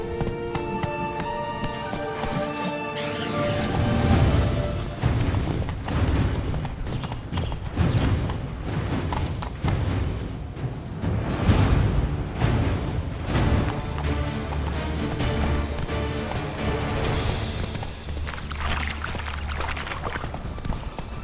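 Roach, a horse in The Witcher 3: Blood and Wine, gallops with loud, steady clip-clop hoofbeats throughout, close by, over a game music background with occasional neighing.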